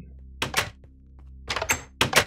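A door mechanism in the modded Minecraft game Blightfall sounds as three pairs of short clicking thunks, evenly spaced over a couple of seconds against a low steady hum.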